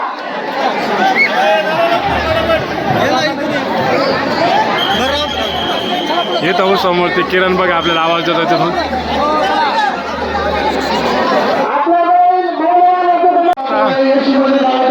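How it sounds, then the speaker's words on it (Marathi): A large crowd gathered in a village for a goddess palanquin festival, dense close chatter and babble throughout with someone speaking loudly over the hubbub. "गावात भरपूर गर्दी जमायला सुरू"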